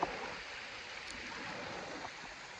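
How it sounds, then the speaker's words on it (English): River water rushes steadily through the Narrows in Zion National Park, Utah, making a continuous broadband hiss and gurgle that is fairly close and even in level, with no voices. "I've got the water behind me."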